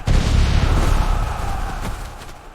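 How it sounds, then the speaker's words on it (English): Eighteenth-century British artillery fire and explosions as a battle sound effect, a single heavy deep boom that rolls and fades over a couple of seconds. "The British artillery fired first. Explosions tore through Jacobite ranks."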